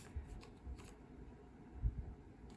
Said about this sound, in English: It takes a long time to split these decks up and shuffle them out